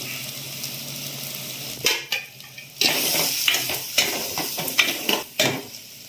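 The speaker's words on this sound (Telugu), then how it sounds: "ఇలా కారంతో పాటు ఒక్కసారి వేగనివ్వాలండి" Onions fry with chili powder in a pan, giving a steady close sizzle broken by several sharp clatters and scrapes as a utensil stirs the mixture.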